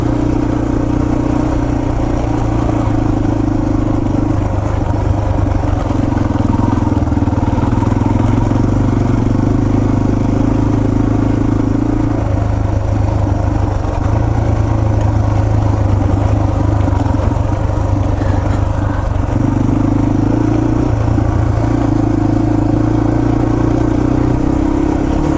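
Yamaha TT-R230 trail motorcycle ridden along a woodland trail, its engine droning loud and close throughout, the pitch rising and falling as the throttle opens and eases, with a faint clatter underneath.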